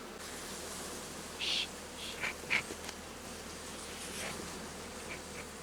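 Honey bees buzz inside a hive during spring colony care, a soft continuous hum with a few close individual bees droning past.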